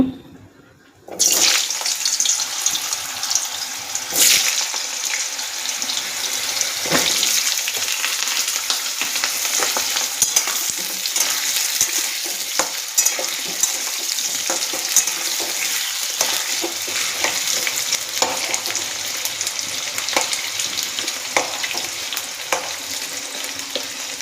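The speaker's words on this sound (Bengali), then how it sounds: "তেলটা গরম হয়ে এসছে, আলুটা একটু ভেজে নেব" Potatoes fry in hot oil with a steady, continuous sizzle that starts abruptly after a second of silence and holds at an even level, broken now and then by faint clicks and stirring scrapes; no one speaks.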